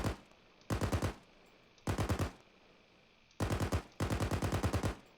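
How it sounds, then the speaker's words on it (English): Bursts of automatic gunfire from a BTR armored vehicle in the Arma 3 video game: four loud, rapid strings of shots, two short and two longer, separated by quiet gaps with no talk. "We're taking fire from the BTR."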